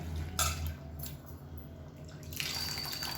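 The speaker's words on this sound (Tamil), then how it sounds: "இப்போ தேவையான அளவுக்கு புளி தண்ணி சேர்த்துக்கலாம்" Tamarind water poured into a pot of curry on the stove, a soft wet pouring and dripping splash that lasts a moment and rises again near the end, fairly quiet against a steady low kitchen hum.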